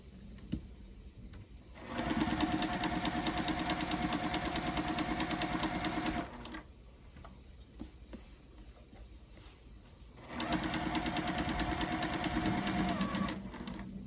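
A sewing machine stitches a quilted Christmas stocking in two long, loud, steady runs of rapid mechanical whirring, separated by a quieter gap of handling sounds.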